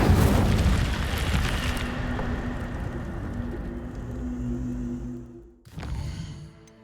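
Hogwarts Legacy Incendio fire spell: a loud, roaring fiery blast that fades into a rumbling burn, then a short gap and a second whooshing burst at the end.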